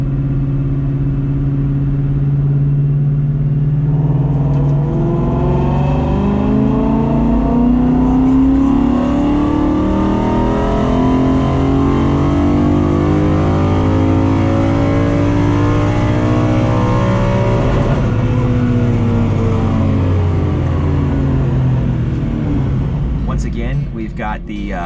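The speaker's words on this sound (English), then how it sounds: "I'm about to make a dyno pull" A car engine with an aluminum Boss intake manifold revs hard and steadily on a dyno for a long stretch, its pitch sweeping upward as it winds out, loud and close, then dropping off near the end.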